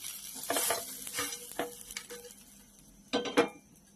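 Paneer tikka sizzling and being stirred in a pan, a steady frying hiss with scattered utensil scrapes and a sharper clatter of stirring near the end, close and moderately loud.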